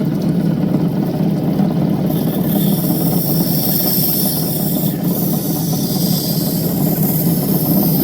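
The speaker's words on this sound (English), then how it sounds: "So I think we cut it right there with a fine wheel." A fine grinding wheel steadily shapes a large Coober Pedy opal with violet colour, giving a continuous loud whirring hiss and rasp with a brief scrape near the middle, no talking.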